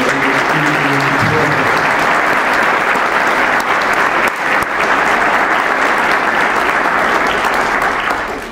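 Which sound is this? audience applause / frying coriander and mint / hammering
audience applause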